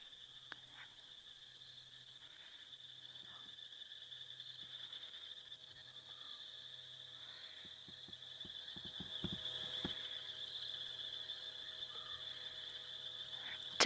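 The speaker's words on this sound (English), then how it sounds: "A lot of what you're hearing now, though, is rain frogs." Rain frogs calling at night in the Mara, Kenya, a steady chorus of high shrill trills with faint low pulsing beneath, distant and quiet, with occasional soft knocks near the end.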